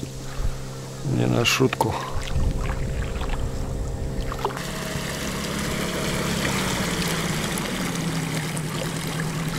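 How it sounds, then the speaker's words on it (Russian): Motorboats run on a river, a steady broad engine and water rush building from about 4.5 seconds onward, with brief talk near the start. "Тут ходят прям на моторах. Вон они, ребята прям газуют."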